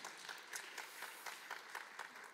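A church congregation claps together in blessing during a Sunday service, with a steady rhythmic beat of group claps that stays soft and distant for the whole moment.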